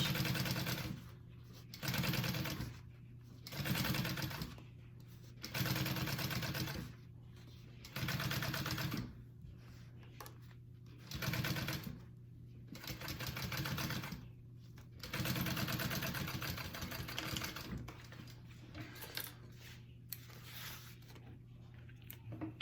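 Domestic sewing machine top stitching a bowler bag, running in repeated bursts of a few seconds each with short pauses between as the fabric is guided, steady and close with no talking.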